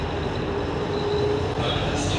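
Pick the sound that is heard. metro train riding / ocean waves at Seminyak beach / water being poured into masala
metro train riding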